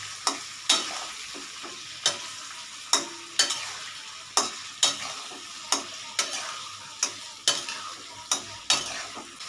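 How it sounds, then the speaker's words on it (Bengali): Onion and garlic sauté in a pan for chilli chicken, a steady sizzle broken by regular sharp scrapes and knocks of a spatula stirring, close and without talk. "এবার এই পেঁয়াজ রসুনটা একটু কিছুক্ষণ সাঁতলাতে হবে, যতক্ষণ না এটা একটু ব্রাউনিশ কালার আসছে।"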